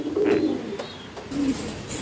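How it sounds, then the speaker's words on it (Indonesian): Tomprang high-flying pigeons coo close by, two soft, low, throaty coos with a pause between, against faint background noise. "saya akan tampilkan sepasang merpati"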